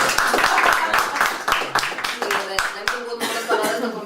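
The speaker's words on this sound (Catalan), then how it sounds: "crec que es mereix un aplaudiment" A small studio audience gives a guest at an interview recording a burst of dense clapping, close and lively, mixed with chatter and a little laughter.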